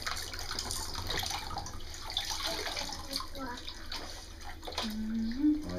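Water splashing and pouring over a baby in a filled bathtub, a continuous close sloshing and trickling wash with a voice and other voices talking over it.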